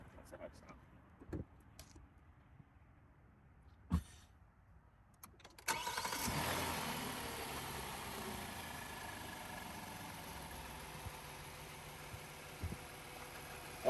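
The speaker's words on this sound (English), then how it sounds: "So we're gonna go ahead and start it up." A few quiet clicks and rattling keys, then the 291-horsepower 3.8-liter engine of a 2021 Hyundai Palisade Calligraphy cranks, catches and settles into a loud, steady idle close by.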